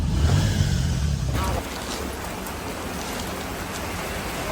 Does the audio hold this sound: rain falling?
yes